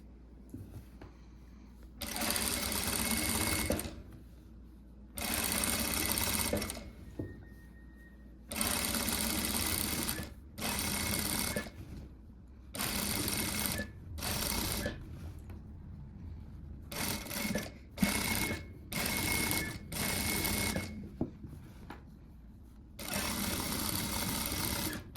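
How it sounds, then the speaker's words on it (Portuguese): A domestic sewing machine stitches over the first seam of a blouse in repeated loud bursts of rapid whirring, separated by short pauses, close and alone with no talking. "A minha costurinha eu vou passar em cima dessa primeira."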